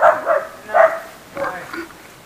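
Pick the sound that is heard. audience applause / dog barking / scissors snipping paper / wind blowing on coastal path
dog barking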